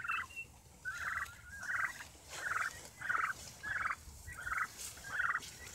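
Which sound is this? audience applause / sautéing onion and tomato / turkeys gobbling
turkeys gobbling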